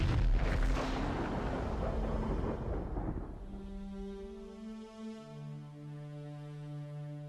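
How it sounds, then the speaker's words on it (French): A deep, thunderous explosion rumbles loudly for about three seconds, then fades into a low sustained drone with steady tones, suggesting a dramatized supernova blast with no voices. "l'étoile ne peut plus le supporter et finit par exploser en ce qu'on appelle une nova ou une"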